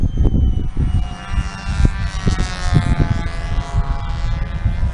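A control-line stunt model airplane, a Cobra, flies at a contest, its small engine whining steadily with a rising and falling pitch as it circles, accompanied by scattered thumps and crowd noise.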